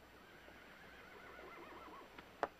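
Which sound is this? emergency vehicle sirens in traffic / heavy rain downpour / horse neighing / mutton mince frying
horse neighing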